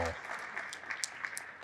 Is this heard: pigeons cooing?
no